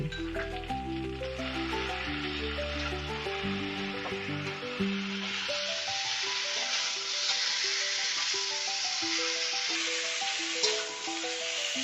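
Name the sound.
stirring pointed gourd and prawns in a pan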